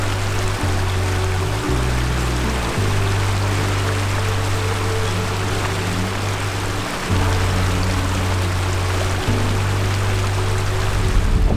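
A mountain creek in Utah runs past an empty campground, its broad, steady rush and babble continuous and fairly close, with a low droning hum shifting in pitch underneath and no voices.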